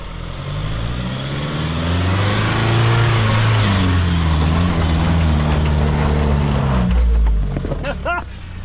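A Mahindra 4x4 engine revs hard off-road, rising to a loud, labored climb and then dropping away. Voices and some clattering come in near the end.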